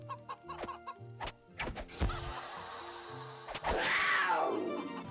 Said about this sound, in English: Here we go, the chickens are back.